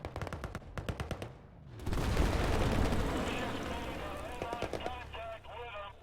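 Automatic gunfire crackles in a Command and Control 3 war-on-terror strategy game, bursts and sustained rattling with a heavy explosive rumble midway, loud and continuous, while a voice talks over it.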